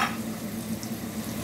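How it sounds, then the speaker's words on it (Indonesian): Chilies and tempeh fry side by side in a wide pan, making a soft, steady sizzle that is quiet and continuous over a low background hum. "Nih, aku goreng-goreng dulu. Aku pinggirin ke sini, baru tempenya digoreng di sebelahan."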